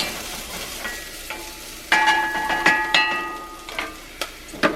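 Jalapenos sizzle and fry in a cast iron pot for chicken chili, a soft steady hiss punctuated by sharp clinks and scrapes of stirring, close and alone.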